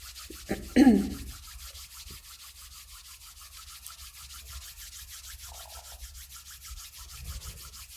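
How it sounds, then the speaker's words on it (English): Palms rubbed together in a quiet room, a soft dry brushing friction that is close and faint, with one louder swipe near the start and a low steady background hum. "Now bring the palms together and rub them together to generate some energy."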